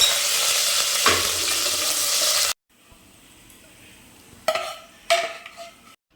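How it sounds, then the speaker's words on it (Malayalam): Cashews, curry leaves and raisins hit hot oil in a pan, giving a loud steady sizzle for a few seconds that suddenly drops away. Quieter crackling follows, then bursts of stirring and spattering near the end. "ഇനി ഇതിലേക്ക് അണ്ടിപ്പരിപ്പും കറിവേപ്പിലയും കിസ്മിസും കൂടെ ഇട്ട് ഫ്രൈ ചെയ്തെടുക്കാം"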